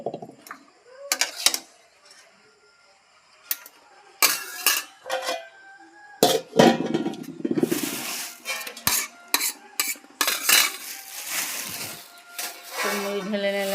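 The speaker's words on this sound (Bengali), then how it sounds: "মুড়ি ঢেলে নিলাম। ছোলা মুড়িটা এবার মিশালাম।" Fried chickpeas and puffed rice are mixed on a plate, giving irregular bursts of clinking, scraping and rustling, close and moderately loud, with pauses between strokes.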